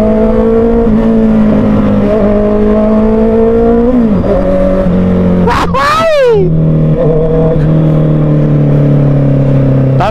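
A 2023 Honda CBR650R motorcycle engine revs loudly and close up while being ridden, holding a steady drone that rises and falls, with a sharp rev spike midway and a rider talking over it.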